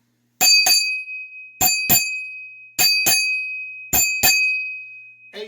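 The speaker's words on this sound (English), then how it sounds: "8 bells on the morning watch." A ship's bell strikes eight bells for the morning watch: four pairs of bright, ringing strokes, close and loud with long shimmering decay, evenly spaced and with no voices.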